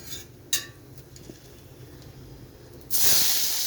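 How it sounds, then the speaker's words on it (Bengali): Whole garam masala spices hit hot oil in a pan for a soybean curry, and a bright, loud sizzle bursts in near the end after a few quiet clinks of utensils. "তেল গরম হয়ে গেছে, গরম মশলা ফোড়ন দিলাম"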